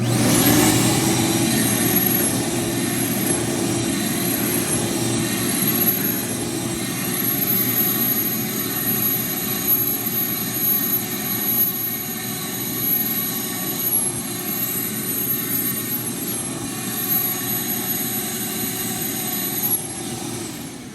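A Ridgid corded electric vacuum runs steadily at close range, a loud, constant high whine with a droning motor hum that shifts slightly as passes are made, no speech.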